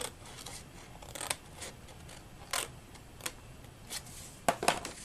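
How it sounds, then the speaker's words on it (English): Scissors snipping through paper card up to a score line while making a treat box, a series of crisp, separate cuts at irregular intervals, close and fairly faint against a quiet room. "you'll cut up to the 2 1/4 score line, and you'll do the same thing on the other side"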